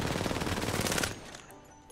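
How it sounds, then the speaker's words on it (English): An R99 or R301 rifle in the video game Apex Legends fires one rapid, sustained automatic burst for about a second, then cuts off, leaving a short fading tail. "I'm gonna show you recoil control, and then after 18 bullets, I'm gonna let the bullets just fly"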